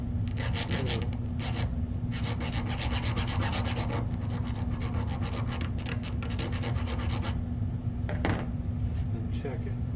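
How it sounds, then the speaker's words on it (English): Continuous close rasping of a file on a piston ring end gap for a 2019 KTM 300 XC-W Six Days dirt bike, with a low steady hum underneath and someone talking over the strokes. "I'll set up a file and we'll get filing"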